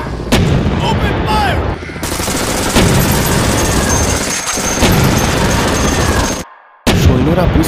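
Soldiers fire guns at a giant monster in an animated cartoon, with dense, loud bursts of rapid gunfire and booms that continue through the scene, broken by a brief silent gap.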